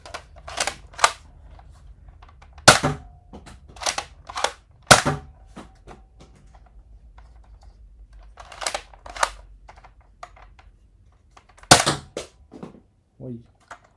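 A Nerf Elite 2.0 Eaglepoint toy blaster fires foam darts without its scope, giving sharp, close snapping shots spaced irregularly across the stretch, with quieter clicks and handling noises in between.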